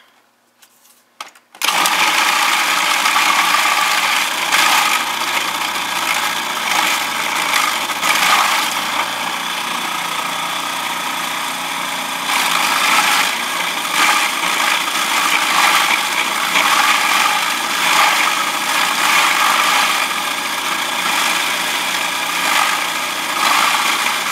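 A kitchen food processor or blender whirs as it mixes hard cream cheese with chopped garlic cloves, starting abruptly after a few handling clicks and then running as a loud, steady motor drone with slight strain changes throughout.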